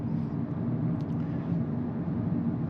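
Steady low cabin rumble and tire roar inside a Volkswagen Golf R cruising on a freeway, a constant, fairly quiet drone with no talk and only faint brief ticks above it.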